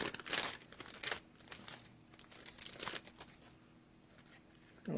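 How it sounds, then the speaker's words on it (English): Cellophane wrap peeled and torn off a boxed YSL M7 perfume, close-up crinkling and crackling in a few bursts with quieter handling between them. "I'm going to remove the plastic wrap."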